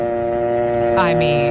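A steady telephone dial tone hums continuously, with a voice speaking briefly over it partway through.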